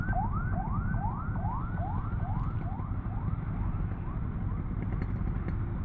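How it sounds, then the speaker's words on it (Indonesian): An ambulance siren on a road wails in a rapid repeating up-and-down cycle, heard steadily over the low rumble of traffic and a motorcycle engine. "Entah mengapa hari ini banyak banget ambulan."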